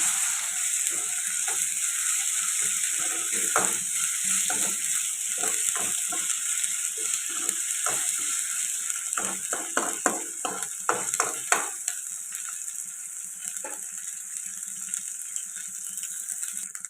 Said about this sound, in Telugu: ఇప్పుడు ఫ్రెష్గా దంచి పెట్టుకున్న అల్లం వెల్లుల్లి పేస్ట్ అయితే వేసుకోవాలి ఇప్పుడు ఇది పచ్చివాసన పోయేదాకా ఫ్రై చేసుకుంది